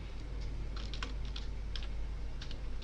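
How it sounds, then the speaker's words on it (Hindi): Someone types a name on a computer keyboard: quick, light key clicks in an uneven rhythm, faint and close, over a steady low hum, with no one talking. "मोहित की जगह हम देखिए अभी लिखते हैं यहाँ पर आशी,"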